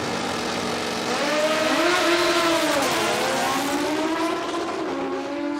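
Drag racing motorcycle at Palmyra Dragway roaring loudly and continuously, engine pitch climbing and dipping as it revs and accelerates down the strip, with no voices.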